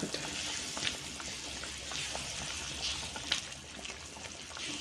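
Water at a rolling boil in a cooking pot, ready for rava to go in: a steady bubbling, hissing wash that stays even and fairly close throughout, with small pops and splutters rising above it now and then.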